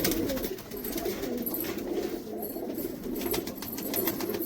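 A golden pigeon coos steadily, its soft low calls repeating close by over a dense, continuous background with no talking.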